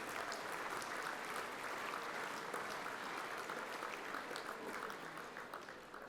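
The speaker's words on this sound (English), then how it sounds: "I think we all need a big round of applause for all those guys that allow us to do what we do." At a Best and Fairest football club awards night, a roomful of people applaud in a steady, continuous patter that sounds distant and quiet, tapering slightly near the end.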